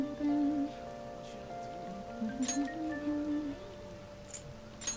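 Rain falling in the video game Persona 5 Royal, a steady soft patter under a low drone of game music, with a few brief clinks standing out.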